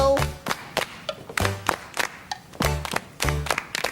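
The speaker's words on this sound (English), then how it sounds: "Now it's going to be your turn to try the clapping part." A group of children and adults claps along to a rhythm in bright, loud, evenly spaced bursts, a few quick claps grouped between short pauses.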